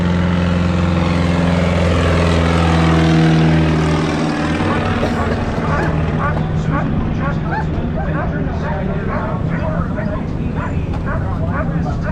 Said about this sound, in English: the airplane that you're in, this Piper Super Cub, is far and away the most popular bush aircraft